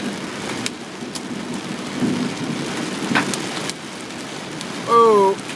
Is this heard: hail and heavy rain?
yes